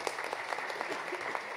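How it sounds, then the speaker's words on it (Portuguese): Audience applause for an executive director introduced at a Brazilian human rights event: dense, steady clapping from a crowd, continuous and even in loudness from start to finish. "Passo uma salva de palmas para a nossa diretora."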